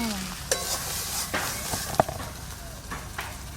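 Spice paste for an egg and aubergine curry sizzles steadily in a pan while a spoon scrapes and stirs it, with sharp clinks of the utensil against the metal at irregular intervals, close and fairly loud.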